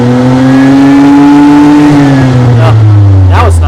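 A John Deere Gator utility vehicle's engine revs hard up toward 6,000 RPM, giving a loud, close, sustained drone with steadily rising pitch that eases back near the end.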